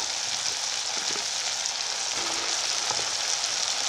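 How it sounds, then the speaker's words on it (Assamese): Cut okra frying in a pan makes a steady, close sizzle with soft crackling and faint stirring scrapes underneath, without pause or voices. "এতিয়া মই কাটি থোৱা ভেন্দিখিনি দি দিওঁ"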